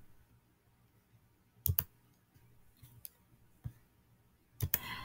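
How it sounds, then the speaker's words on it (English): Computer mouse clicks sound close and crisp in a quiet room while selecting in Nearpod: a quick double click, a few single taps, then another quick double click at the end. "So I'll click that, and then I will hit Select."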